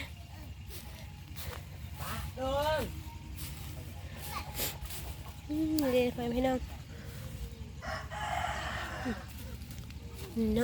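Chickens cluck and squawk close by, with short rising calls scattered through, while a person talks over the birds.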